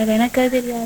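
Cassava chips fry in hot oil with a steady crackling sizzle beneath a brief spoken phrase.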